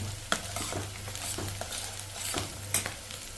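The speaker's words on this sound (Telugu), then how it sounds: "ఇదిగో బంగాళదుంప ముక్కలు కూడా వేగుతున్నాయి ఇక్కడ." Onion masala and potato pieces fry on a stove over high heat, with a steady sizzle under repeated sharp scrapes and clinks of a spoon stirring in the pan, close and without voices.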